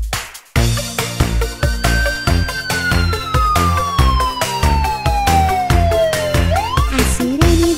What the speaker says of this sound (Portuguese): A sirene da ambulância faz ui-u-i, ui-u-i, ui-u-i